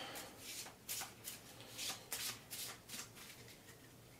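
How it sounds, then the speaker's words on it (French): Level 1 cards for the Aliens: Another Glorious Day in the Corps board game being shuffled by hand, a run of crisp riffling bursts repeating roughly every half second, close and fairly quiet with no talking. "On va bien les brasser."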